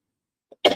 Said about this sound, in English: excuse this cough